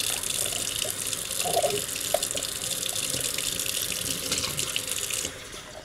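Tap water runs steadily into a sink while a glass jar is rinsed clean, a continuous close splashing hiss with a few small clinks and gurgles, easing off near the end.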